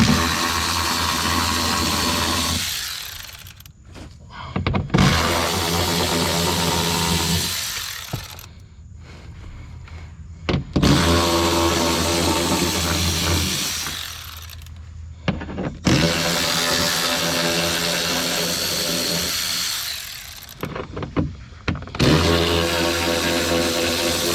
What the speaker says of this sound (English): This is why an electric ratchet just does great work, because this will take forever.